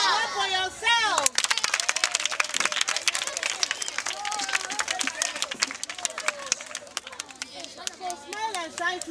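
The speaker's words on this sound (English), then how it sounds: "Clap for yourself." A group of children clap for themselves, a burst of lively, uneven applause with scattered hand claps up close while kids and an adult talk and shout over it.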